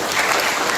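Lecture audience at a university session clapping, a steady dense wash of applause filling the whole moment.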